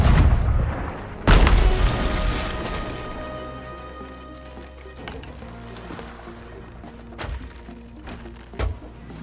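A gunpowder keg aboard a ship detonated by a cannonball in the pirate game Sea of Thieves, one loud deep boom that rolls off into a long fading rumble, followed by a couple of smaller thuds.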